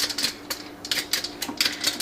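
Yuca root being peeled by hand in a kitchen, a run of close, crisp scraping strokes in quick irregular bursts with no talking.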